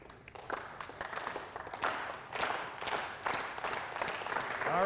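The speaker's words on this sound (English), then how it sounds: "now we're going into slow clap for some reason" Clapping builds in a room during a talk on team captaincy, starting sparse and slowly gathering into fuller applause over five seconds, moderately near and growing louder toward the end.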